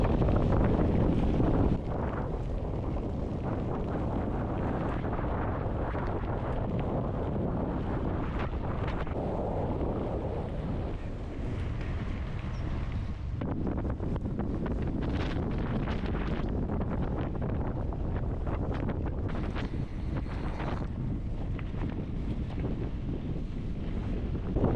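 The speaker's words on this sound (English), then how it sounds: "Very windy, as you can hear" Strong crosswind buffets the microphone without pause on a gravel ride through farmland near Burra, South Australia, a loud low rumble and roar that lasts the whole time with no voices.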